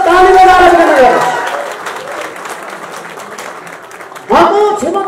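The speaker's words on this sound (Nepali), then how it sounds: "तपाईले ताली बजाएर स्वागत गर्नुहोस्।" An audience claps to welcome a chief guest, loud dense applause that fades under a speaker's voice and then swells again briefly near the end.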